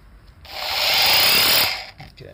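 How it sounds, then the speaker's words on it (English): Ryobi XBRH-18 cordless rotary hammer with a 10mm bit drilling into concrete: one loud, steady gritty whir swelling for about a second, close by, with quieter handling noise before and after. "Let's drill through some concrete."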